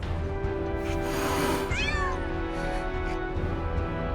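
Kittens meow in the Final Fantasy VII Rebirth video game: a clear, close, rising-and-falling cry stands out over a soft game backdrop, with no talking.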